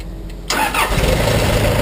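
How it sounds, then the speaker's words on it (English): A pump's engine cranks briefly after a quiet moment, then catches and settles into a loud, close running rumble. "Going to hold that and turn the ignition key."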